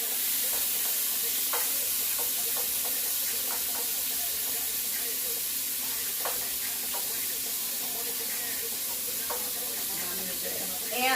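Shrimp fry in hot grease over medium-high heat, a loud, steady crackling sizzle that carries through the whole stretch with scattered sharper pops and light stirring clatter.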